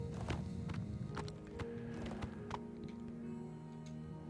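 A horse in the game Oblivion Remaster gives off faint, regular clip-clops of hooves, a steady walking rhythm of light knocks heard alone at low volume.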